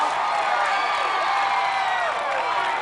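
Dense, loud crowd at an American Ninja Warrior finals course in San Antonio, cheering and shouting continuously as a competitor runs the obstacles.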